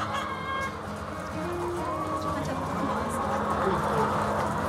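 A crowd of about two thousand hens on a poultry farm, clucking and calling continuously in overlapping, moderately close voices across the whole span.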